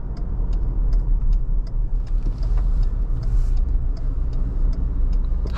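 A 2021 Ford Ranger XLT pickup truck's engine drones steadily from inside the cab as it drives through a corner, with faint rhythmic ticking above the road noise.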